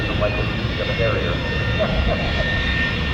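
An AV-8B Harrier jet arriving at the Oshkosh air show, its engine producing a loud continuous roar and whine that persists steadily, with talk running over it.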